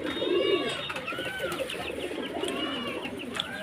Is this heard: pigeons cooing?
yes